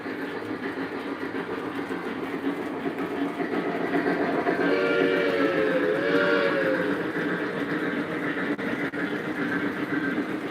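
A Lionel Legacy T1 Duplex O-gauge model steam locomotive runs steadily with a dense, continuous chuffing and rolling rumble, alone and fairly close, with a brief whistle-like tone rising midway.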